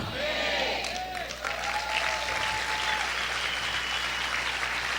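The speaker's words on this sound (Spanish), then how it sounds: "Vamos a aplaudir fuerte al Señor" Church congregation clapping loudly and steadily throughout, a dense crowd applause with a voice briefly rising over it near the start.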